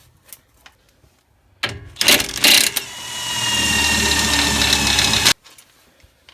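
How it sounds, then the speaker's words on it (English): Ratchet loosening a sway bar link on a Honda Ridgeline strut, heard as a loud, close run of rapid ratcheting clicks lasting a few seconds and then stopping abruptly, with quieter workshop noise before and after. "next here on the strut, we're going to go ahead and get this sway bar link loosened up."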